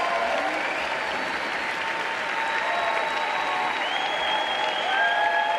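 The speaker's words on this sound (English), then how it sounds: "how about the loudest round of applause for the great, great class of 2025" A large crowd at a university convocation ceremony applauds the graduating class of 2025 with dense, sustained clapping that stays loud throughout, with a few faint whistles and cheers mixed in.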